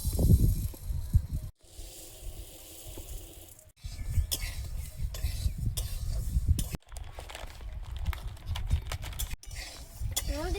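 Mung dal dry-roasted in a pan gives rustling, scraping and rattling as the lentils are stirred, arriving in bursts broken by short silent gaps.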